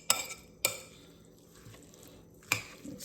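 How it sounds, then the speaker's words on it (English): Homemade sandwich dressing being mixed in a bowl: a few sharp utensil clinks against the bowl, separated by quiet, soft mixing sounds, close and fairly faint with no talking. "So I'm going to mix it in."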